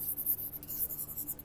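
Pen or chalk writing out a straight-line equation during a coordinate geometry lesson, faint continuous scratchy strokes in short bursts over a quiet room background.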